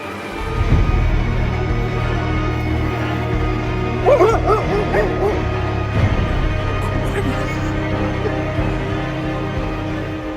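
Dogs barking and yipping in a Japanese setting, a burst of several quick barks midway through, fairly close and loud over a steady low hum and background noise.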